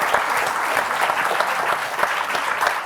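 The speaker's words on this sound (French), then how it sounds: "On peut vous applaudir pour cet exercice" An audience at a round-table discussion on future materials gives brisk, close applause, continuous clapping with a few sharper individual claps standing out.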